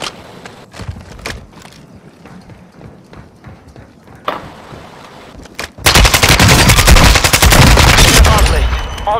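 Rapid automatic gunfire and explosions from the video game Call of Duty Warzone, sparse shots at first, then a dense, loud burst of continuous firing in the last few seconds.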